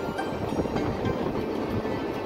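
A train rounds a curve on the line between Nanded and Chhatrapati Sambhaji Nagar, a steady close rumble of wheels and carriages with faint rhythmic clatter, no voices.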